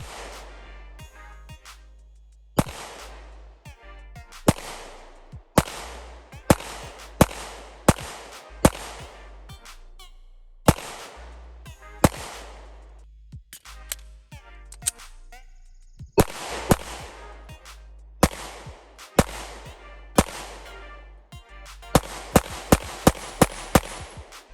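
Canik TP9 Elite SC 9mm pistol fired in a steady string of about ten sharp, loud reports, each a crisp bang with a short decay, spaced a second or two apart, with a few rapid doubles toward the end.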